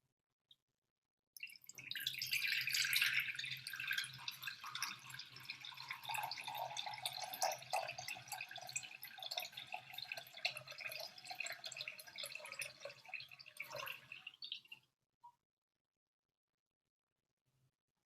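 Water pours and drips steadily into a bowl during a community grief ritual, a continuous trickling stream for about thirteen seconds, close and fairly soft, with no talking.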